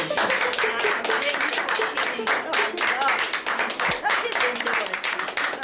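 An audience claps steadily for several seconds, a dense continuous patter of applause from a gathered crowd, loud and close throughout.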